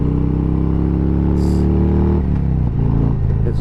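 A new Harley-Davidson motorcycle rides along the Cherohala Skyway, its loud engine rumbling close by, then shifting down with a dip in pitch and a brief wind rush.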